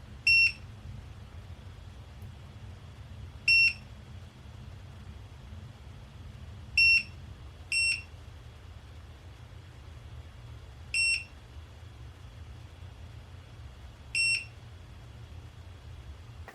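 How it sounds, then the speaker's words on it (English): FFpower BP2000 portable power station with solar panels connected, emitting sharp high electronic beeps at irregular intervals of a few seconds, six in total, over a low steady background hum. "this thing would beep like crazy,"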